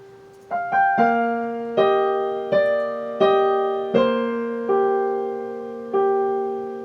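A solo piano plays a measure of Khachaturian's Andantino, with a sustained right-hand half note over repeated left-hand notes. About eight clear, evenly spaced strikes ring and decay cleanly, with no talking.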